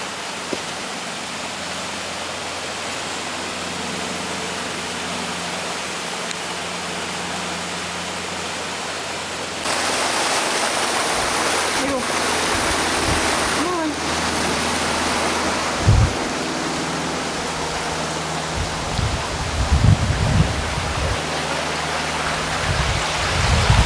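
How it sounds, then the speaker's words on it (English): A stream in Maspie Den near Falkland, Fife, rushes as a steady, full wash of water. It swells louder partway through, with a few low thumps near the end. "there's a lot of natural water noise in the background"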